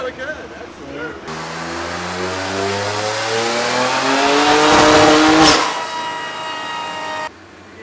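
A car on a dyno rig revs hard through its gears, its engine note climbing in steady rising sweeps to a loud peak before cutting off sharply, with voices heard faintly underneath.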